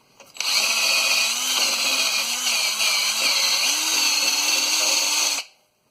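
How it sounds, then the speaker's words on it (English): A rotary wire brush on a power tool whirs at high, steady speed while cleaning a brake caliper on a 2019 Chevy Silverado, loud and close, dipping slightly in pitch as it bears against the metal, then stopping. "we want to clean in here with our wire brush"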